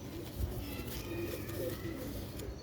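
Pigeons cooing close by, soft low repeated coos under a steady background hum, no talk audible.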